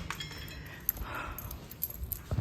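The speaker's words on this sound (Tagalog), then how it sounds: "Muntik ko na makalimutan ng susi." A bunch of house keys jangles and clinks in short metallic bursts, close and fairly faint, as they are picked up before heading out for work.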